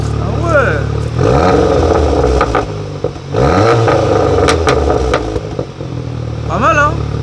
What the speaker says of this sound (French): Là, en mode Cupra, le régime moteur il est plus haut.